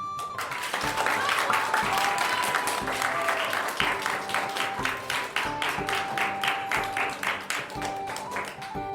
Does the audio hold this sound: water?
no